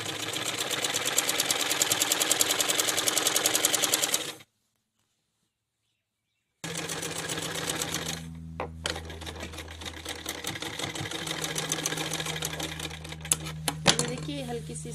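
A sewing machine stitches a jumpsuit in rapid close bursts, stopping for a silent gap, then restarting more unevenly with clicks and handling noise, with some talk alongside.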